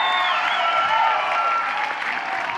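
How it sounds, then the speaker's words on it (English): Applause from a conference audience at a charity fast pitch event for a program manager, a steady dense wash of clapping hands that stays loud and even throughout, with no talking over it. "you all should turn your heads and clap for Brittany Battle."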